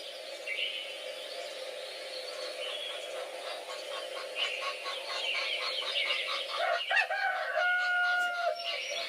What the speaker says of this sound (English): it is a rooster.